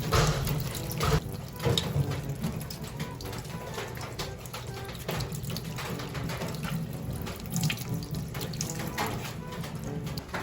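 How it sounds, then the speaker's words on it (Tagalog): Guava leaves are rinsed by hand under a running kitchen tap, a steady close splashing of water with intermittent heavier gushes and faint handling sounds as the leaves are turned. "ating huhugasan itong dahon ng bayabas bago ilaga"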